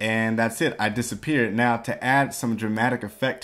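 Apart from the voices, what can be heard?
No everyday noises stand out.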